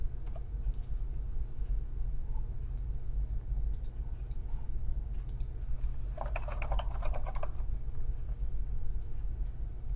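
Typing on a computer keyboard while entering a spreadsheet heading, heard as scattered key clicks with a dense burst of rapid keystrokes in the middle, over a steady low rumble of room hum.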